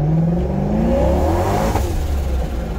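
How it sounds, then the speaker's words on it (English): Supercharged C5 Corvette accelerating hard in first gear with enough power to break the tires loose; a loud, close, continuous engine roar climbs steadily in pitch for the whole stretch. "the Supercharged C5 makes enough power to bust the tires loose"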